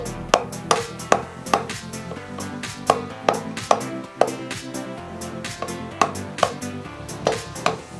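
A knife is driven repeatedly into a layered handle to split one side off, giving a close series of sharp wooden knocks and taps at an irregular, fairly quick rhythm with no talk.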